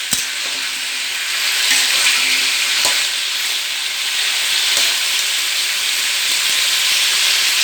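Salted pointed gourd (potol) frying in a pan, a loud continuous hissing sizzle up close, broken by a few brief clicks from a spatula.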